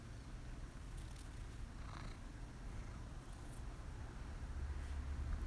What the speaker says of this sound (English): Oh my goodness, cat.